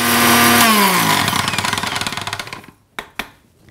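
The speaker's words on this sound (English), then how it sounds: "We are going to powder it in a mixie." A mixie grinder powders roasted coriander seeds and red chilies, a loud whining motor with rattling grit that spins down and fades, followed by two sharp clunks.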